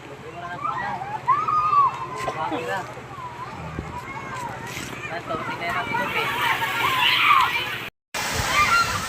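Water sloshing and splashing as people bathe at an outdoor swimming spot in Anda, Bohol, a steady wet churn with voices talking and calling throughout.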